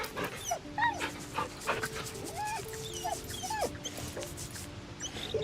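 A dog whimpers and whines in Baldur's Gate 3, a string of high rising and falling yelps and soft cries at close range over a faint ambient background.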